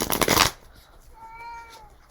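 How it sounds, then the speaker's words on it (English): Cats meow indoors while house sitting, a short drawn-out meow rising after a burst of rustling and shuffling noise, fairly faint and close by. "You might hear the cats that were house sitting."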